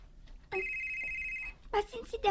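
A cellphone rings with a steady electronic trill for about a second, then people start talking nearby.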